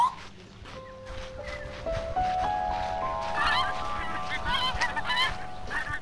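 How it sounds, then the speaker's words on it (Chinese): A flock of geese on a rural farm honks in a steadily building chorus of overlapping calls, growing busier and louder toward the end over a low background rumble. "我听着鹅，一堆鹅在叫啊"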